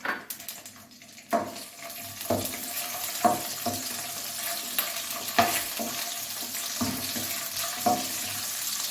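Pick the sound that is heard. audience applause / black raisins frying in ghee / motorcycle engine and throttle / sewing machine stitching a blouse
black raisins frying in ghee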